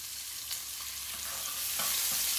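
Onions and garlic sizzle and fry in a pan, a steady close hiss with faint stirring scrapes and no talking.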